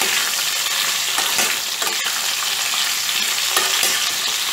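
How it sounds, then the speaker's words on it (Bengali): Mixed vegetables for labra curry frying on high heat, a loud, steady hiss of sizzling oil with occasional scraping stirs, no voices. "সবজিগুলোকে দিয়ে একটুখানি ভেজে নিব"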